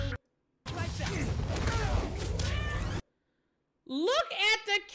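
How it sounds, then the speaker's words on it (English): A cat meowing in a video game, with drawn-out wavering meows in a loud, busy stretch of game audio, followed by a brief gap and then a higher, clearer meow. "Look at the cat!"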